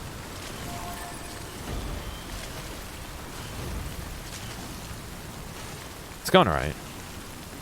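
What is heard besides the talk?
rain falling in the video game Death Stranding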